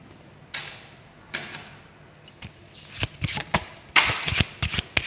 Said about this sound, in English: I keep on shuffling just in case